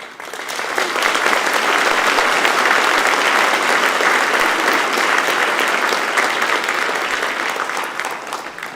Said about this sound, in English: I see Mr. Sam Gui applauding.